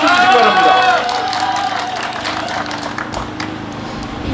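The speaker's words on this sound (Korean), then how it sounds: "큰 박수 주시기 바랍니다." A crowd at a Korean patriotic rally breaks into scattered clapping after a loud voice over the sound system at the start; the applause carries on as a dense patter.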